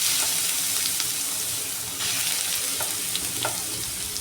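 Hog plums frying in hot oil with spices, a steady close, dense sizzle and crackle throughout, with a few light clicks of stirring and no talk.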